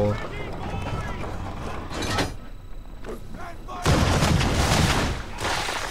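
Ship cannons in an Assassin's Creed 3 naval battle fire a broadside: heavy booming blasts over continuous sea and game noise, with a dense, loud burst of cannon fire near the end.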